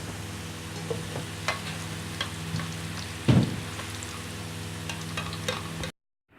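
Onions frying in hot oil give a close, steady crackling sizzle with occasional stirring scrapes and a louder clatter near the middle. The sound cuts off abruptly before the end.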